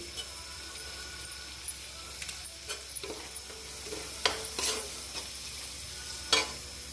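Asafoetida dropped into hot oil for a lentil and bottle gourd dish, a quiet continuous sizzle broken by scattered light stirring clicks and a couple of brief spatters.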